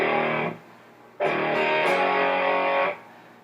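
Distorted electric guitar chords from a riff moving from E5 to G, two sustained strums separated by a short gap, close and loud with no talking.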